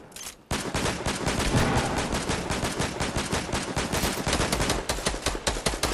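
Dense, rapid bursts of gunfire from the Fortnite video game, loud and nearly continuous with only brief gaps between volleys, heard alone without voices.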